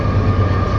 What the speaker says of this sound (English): Got a train coming by.